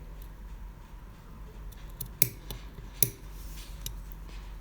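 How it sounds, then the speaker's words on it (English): Scissors cut into fabric for a jetted pocket: a few quiet, close snips spaced about a second apart, two of them sharper, over a faint room hum with no talk. "put my scissors into that snip and cut down the center here"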